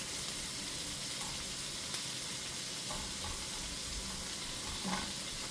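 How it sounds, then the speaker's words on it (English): Onions caramelize in a pan over a lowered flame, a faint, continuous crackling sizzle with a few light stirring sounds. "I'll lower the flame so my onions don't burn."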